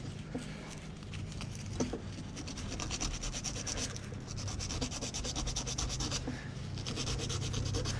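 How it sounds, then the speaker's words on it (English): Gentle hand sanding between the carved grooves of a homemade knife handle, a continuous close rasping rub with steady back-and-forth strokes that barely lets up throughout. "Very gently sand in between these grooves"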